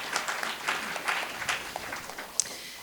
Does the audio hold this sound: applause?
yes